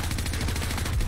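Gunfire in a video game firefight, a rapid, dense burst of shots running continuously at moderate level with no voices over it.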